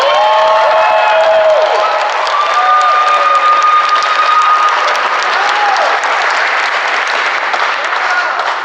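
Sustained crowd applause with cheering and whoops at an election night victory event, loud and dense throughout, a few voices shouting over the steady roar of clapping.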